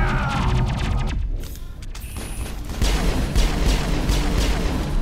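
Gunfire in the video game Mass Effect, a dense chaotic burst of sharp shots and booms that drops briefly, then returns as a rapid loud clatter of repeated impacts.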